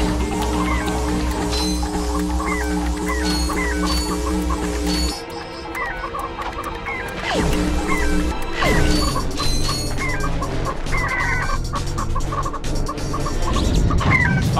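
Clucking and squawking chicken sounds from the Chicken gun weapon in the video game Ratchet and Clank HD, repeated bursts over steady loud game music and effects throughout.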